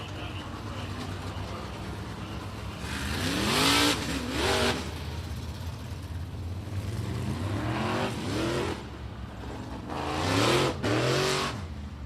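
Race cars from a winged modified series circling Big O Speedway, engines swelling in repeated loud passes as they accelerate by, then fading between laps, with a faint voice at times.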